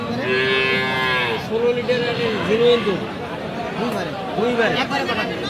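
A Friesian cross dairy cow, penned with her calf at a cattle market, moos loudly in long drawn-out calls, then gives several shorter lowing moos, while crowd chatter hums in the background.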